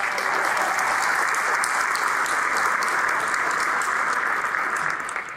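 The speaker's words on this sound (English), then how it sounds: "but another round of applause" An audience applauds at a talk on Harriet Tubman, dense steady clapping that fills the room, loud and continuous before tapering slightly at the end.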